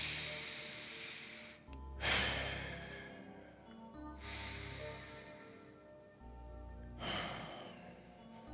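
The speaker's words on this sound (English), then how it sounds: "Breathe in, breathe out." Slow, deep breaths drawn in and let out, three long airy hisses spaced a few seconds apart, close and quiet with no talking.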